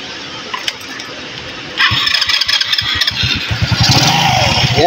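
A motorcycle engine starts after a belt replacement: a few clicks and quiet handling, then a sudden catch into a loud, close, throbbing idle with a slight revving rise.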